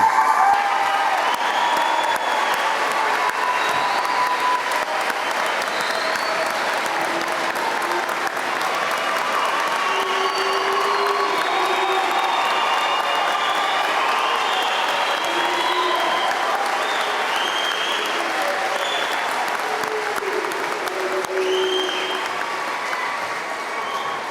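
Sustained applause from a large commencement crowd for the graduating class of 2022, loud and continuous with scattered cheers rising through it, slowly tapering toward the end.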